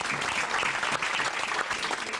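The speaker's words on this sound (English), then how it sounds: "Let's have a round of applause for Florence Shore, ladies and gentlemen." A cruise-ship audience claps steadily and densely for a cooking-contest judge being introduced on stage, a full, even wash of applause with no gaps and no voices on top.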